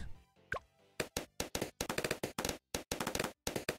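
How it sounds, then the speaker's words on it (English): Blade shooter tower firing blades in Bloons TD 6, a rapid series of sharp plopping pops in quick irregular bursts, loud and close, with a short rising tone near the start. "Blade shooter. Oh my god. Does that shoot blades?"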